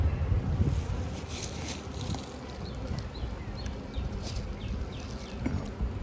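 Honey bees crawl over a fresh foundation frame pulled from a hive, making a steady dense buzz close to the microphone, with wind rumble running underneath throughout.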